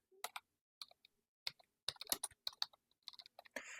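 Keys tapped on a computer keyboard in short, irregular bursts of clicks, close and fairly quiet, with pauses between the runs of typing.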